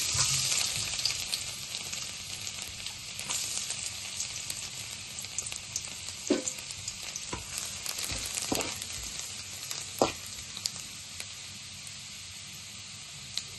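Thinly sliced garlic frying in hot oil in a kadai, a continuous bright crackling sizzle with scattered louder pops and faint spoon taps, close and steady.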